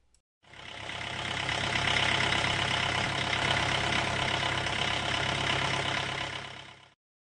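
A diesel engine idles steadily at close range, starting up after a brief pause and running evenly for several seconds before cutting off.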